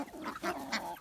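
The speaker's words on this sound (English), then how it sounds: "The speckled bird there, the brighter one, that is a Bielefelder rooster." Red Ranger and Bielefelder chickens gathered in a farm lot make short, overlapping clucks and calls, close by and fairly loud.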